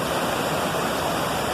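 A small waterfall pours in a steady, loud, continuous rush of water heard close by, with no speech over it.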